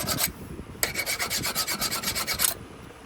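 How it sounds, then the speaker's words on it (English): Rhythmic rasping strokes of a file working mashed metal on a torn HPI Baja 5B part, about a dozen close, even back-and-forth passes with a short pause after the first two. "we're filing it because as it ripped, it kind of mashed some of the metal over"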